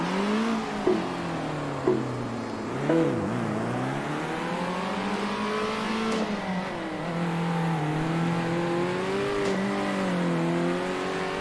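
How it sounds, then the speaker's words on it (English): Several race cars in the top-down racing video game Circuit Superstars, one player among nine cars starting from pole, whining steadily with engine notes rising and falling through gear changes and corners, loud and continuous with no talk. "Just a straight up race. Me and 8 other cars."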